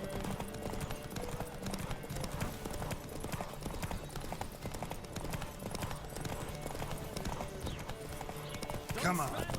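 Horse galloping in the video game The Witcher 3 during a race, a fast, steady clip-clop of hooves throughout, loud and close, with a brief snort near the end and no talk in between.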